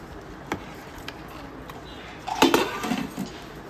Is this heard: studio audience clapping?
no